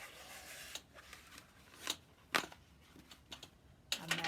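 A knife cuts through floral foam (Oasis) during flower arranging, giving faint, close scratchy rasps and crunches in short irregular strokes, with no talk over them.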